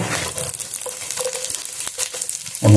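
Coconut and spices frying in hot oil, giving a dense, steady sizzle with crackles and scraping stir strokes, loud and close, ending in a sharp clatter.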